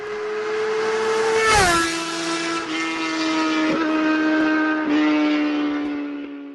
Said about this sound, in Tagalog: sarap talagang i-drive itong bagong motor ko